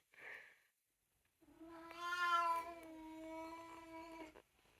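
A grey cat gives one long, wavering meow close by, held for nearly three seconds after a brief soft sound, with no talking.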